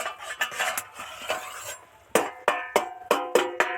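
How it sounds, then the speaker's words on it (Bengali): A metal lid clanks onto a pot of simmering bhetki fish curry with drumsticks, a run of sharp ringing metallic knocks and scrapes, close and alone, the final hits spaced and clear. "ঝোল ফুটে গেছে এবার একটু ঢাকা দিয়ে দিচ্ছি"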